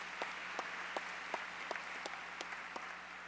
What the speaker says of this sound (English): Let's have one more round of applause for Al Molina and Florida Blue.